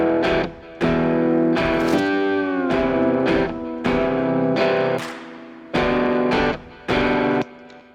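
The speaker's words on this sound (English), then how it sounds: "let's do that slide guitar melody" A distorted electric slide guitar plays a melody with reverb, sustained gliding notes broken into phrases by short pauses, with the pitch bending smoothly between notes.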